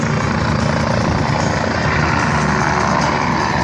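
A Red Bull helicopter at an air show produces a loud, steady rotor and turbine drone that holds constant and close throughout, with no voices.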